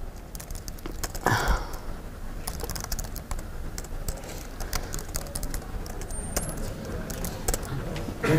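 Quick, uneven clicking of fingers typing on a computer keyboard, close and clear, with a slightly louder clatter near the start and steady key taps throughout.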